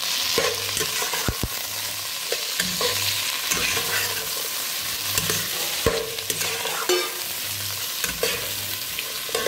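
Broad beans and carrots sautéed in a pan over an outdoor cooking fire, giving a steady close sizzle with repeated scraping stirs throughout.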